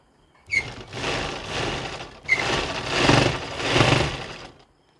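Home sewing machine stitching elastic onto fabric during a stitching lesson, two close bursts of steady mechanical whirring separated by a short pause, with no talking.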